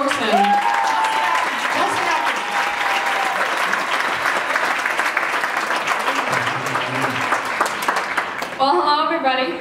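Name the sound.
audience applause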